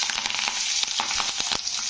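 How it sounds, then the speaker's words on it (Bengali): Slit green chillies and nigella seeds frying in fish oil, a close, bright sizzle with quick crackling pops and brief stirring bursts over a short moment. "কাঁচা লঙ্কাগুলো দেখো একটু ভাজা হয়ে গেছে"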